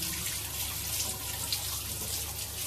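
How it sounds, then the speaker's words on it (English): Tap water runs steadily into a sink during handwashing in a home kitchen, a continuous close hiss and trickle with no talking. "let me wash my hands again"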